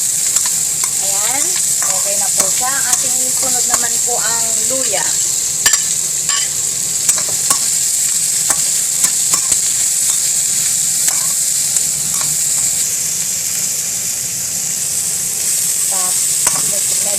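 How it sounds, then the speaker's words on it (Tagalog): Salmon head frying in a pan and being stirred, a loud continuous sizzle with intermittent clicks and scrapes of the spoon, near and without talk. "Haluin mabuti para hindi masunog."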